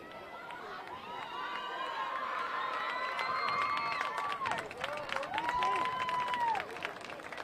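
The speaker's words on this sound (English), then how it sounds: "Searcy fans cheering Edens off the field" Searcy girls' soccer fans cheer a player off the field during the state final against Lakeside: a steady crowd roar with applause and scattered high whistles or shouts rising over about seven seconds.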